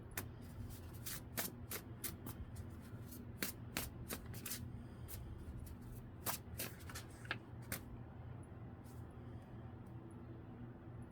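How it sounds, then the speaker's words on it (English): A deck of cards is riffled and shuffled repeatedly, giving quick crisp bursts of flutter and snaps over a low background hum. "Let's go ahead and do the main shuffle"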